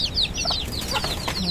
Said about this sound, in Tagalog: mahilig yan si John Bert mag-alaga ng mga manok